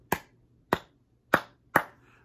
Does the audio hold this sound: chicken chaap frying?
no